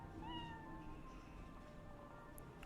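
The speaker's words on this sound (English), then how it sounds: "We can pet the cat." A cat meows in Cyberpunk 2077, a few short rising calls near the start that trail off into a steady background hum of game ambience with no talk.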